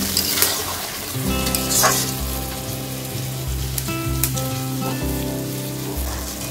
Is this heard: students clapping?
no